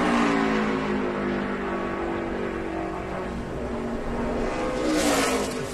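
A NASCAR Nationwide race car on a qualifying lap, its engine roaring loud and steady at high revs with a slight rise in pitch near the end, continuous throughout.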